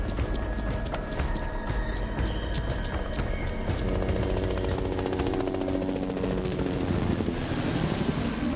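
Helicopters in a Better Call Saul episode, heard as a loud, steady rotor drone with rhythmic chopping that runs the whole time, mixed with dense rumbling and dramatic score, and no talk.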